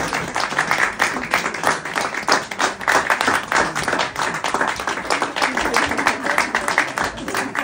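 A church congregation in Tokyo claps steadily and loudly, a dense continuous patter of many hands close by, with no break for the whole stretch.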